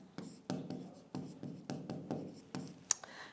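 A teacher writes on a board during a Sanskrit grammar lesson. Quick, rhythmic scratching strokes come in close succession, each a short, soft burst, with no talk over them.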